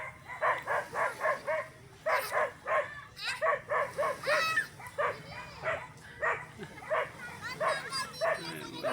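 A dog bathing in shallow water barks and yips in a quick, repeated series of close, loud calls with brief pauses, and voices can be heard around it.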